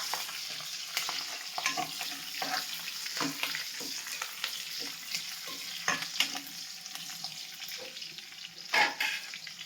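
Green chillies frying in an oil-filled pan for Nellore-style chicken give a steady close sizzle, with intermittent scraping stirs throughout and no voices.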